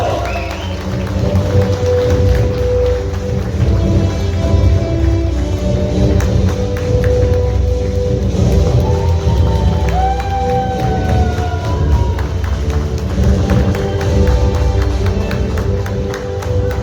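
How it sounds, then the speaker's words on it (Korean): A crowd applauds and cheers at a Democratic Party Gyeongbuk provincial convention in an Andong hotel hall as a newly elected chapter chairperson comes to the stage. Dense, steady clapping fills the room, with tonal sounds running underneath. "큰 박수로 축하해 주시기 바랍니다."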